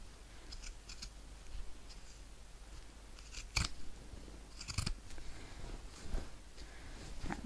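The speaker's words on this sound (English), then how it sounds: "so just trim off what you can." Scissors snip through thick fabric while trimming seam allowance on a satchel, with a few sharp close cuts standing out over quieter scattered snips and faint handling rustle.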